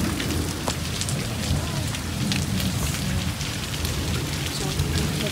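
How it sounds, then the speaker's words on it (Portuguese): Heavy rain pounds down steadily during a storm flooding a campsite, a dense continuous roar of water on surfaces, loud and close throughout with no breaks. "Será que tempestade é essa? Olha isso. Tá alagando tudo"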